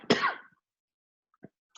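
A single short, sharp cough from one person bursts out up close and fades within half a second, followed by silence and a couple of faint small clicks.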